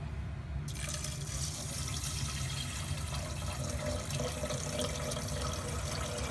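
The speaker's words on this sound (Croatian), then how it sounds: "Dodat ću mineralnu vodu." Mineral water pours steadily into a pot in a continuous splashing stream, close by and unbroken, with no talking.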